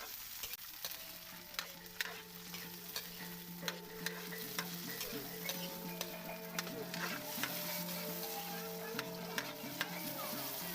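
Tomatoes go into a pan and sizzle steadily and close, while a utensil scrapes and taps against the pan at irregular intervals. No voices are heard.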